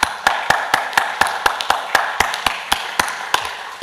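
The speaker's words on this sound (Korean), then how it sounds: "우리를 충만하게 하신 하나님께 감사의 박수 하나님께 올리겠습니다." Congregation at a Korean church dawn worship service clapping together in a steady, even rhythm of sharp, loud claps, about four per second, with no one talking over them.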